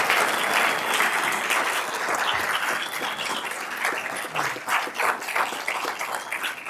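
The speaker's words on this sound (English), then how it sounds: "I want to give a big round of applause to my wife, Shelby." A city council meeting audience applauds, sustained clapping from many people at steady strength, swelling slightly and growing choppier toward the end.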